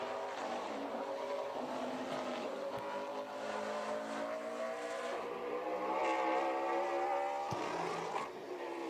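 ASA Southern Super Series race car, the No. 17 car, running a qualifying lap at Five Flags Speedway, with its engine roaring steadily at high revs. The sound is moderately distant and continuous, and a faint voice speaks over it.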